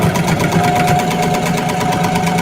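A sewing machine stitches steadily over thick denim seams while the top thread is caught, giving a loud, continuous mechanical whirr with a fine rapid pulse and a sustained humming tone, close and without talk.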